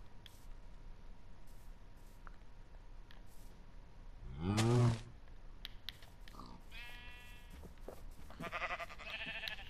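A sheep in Minecraft gives one loud, wavering bleat, standing out from quiet game background clicks and soft tones.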